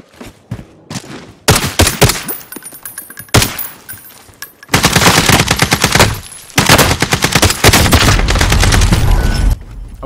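Machine gun fire in the Warzone video game: loud automatic bursts, first short and separated, then long sustained volleys of rapid shots close by.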